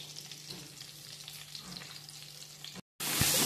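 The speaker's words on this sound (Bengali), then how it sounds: "একটু আমি ভাজা ভাজা করে নিচ্ছি।" Potatoes and other vegetables fry in oil over medium-high flame, giving a steady, close sizzle with light crackle, briefly cutting out before a brighter burst of frying noise.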